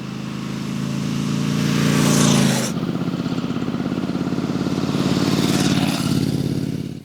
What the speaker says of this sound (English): it does have that lovely exhaust note